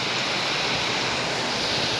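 Rainwater pours downhill from a house toward a river in a dense, continuous rushing wash that stays steady and fairly loud throughout.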